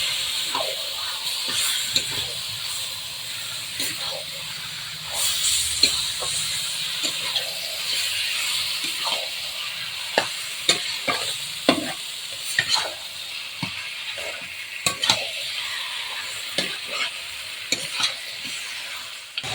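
Chicken meat frying in a well-cooked spice paste for a poppy-seed chicken dish, giving a steady close sizzle and hiss with frequent sharp pops, crackles and stirring scrapes throughout.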